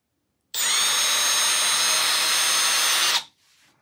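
A Milwaukee brushless cordless drill whirs at full speed, loud and steady for about three seconds, with a high whine, then spins down to a faint tail.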